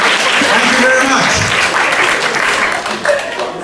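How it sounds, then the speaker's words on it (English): A comedy show audience claps and cheers through a steady, dense wave of applause that fades slightly at the end, with a voice speaking over it. "A round of applause for him, please."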